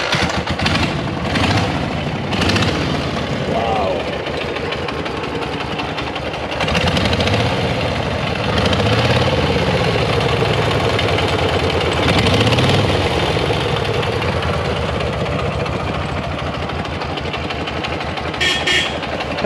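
A 1941 boxer motorcycle engine fires up and runs at a museum, a steady chugging idle with a few louder surges as it is blipped, close and continuous.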